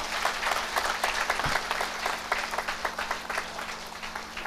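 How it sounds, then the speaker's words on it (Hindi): An audience at a spine lecture in a hall applauds loudly and steadily, many hands clapping in a dense patter that carries through the whole stretch without talk. "जोरदार ताली बजाइए एक बार अपने लिए"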